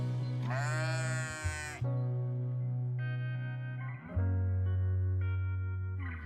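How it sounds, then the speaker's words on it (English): Bighorn sheep in the mixed grass prairie of Badlands National Park, bleating in long, loud, wavering calls one after another, with no other sounds over them. "bighorn sheep play a crucial ecological role in the mixed grass prairie"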